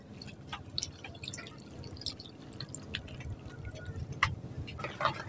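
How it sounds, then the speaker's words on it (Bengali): Water goes into a kadai holding cut taro stems being readied for boiling, heard as faint, scattered drips and small splashes over a low background hum. "এর মধ্যে এখন জল দিয়ে দিচ্ছি"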